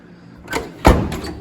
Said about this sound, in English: Now I can just throw the door panel on.